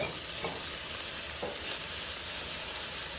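Red onion and Italian sausage sizzle and fry in a pan, a constant hiss of frying with a couple of soft stirring scrapes, close and steady with no talk.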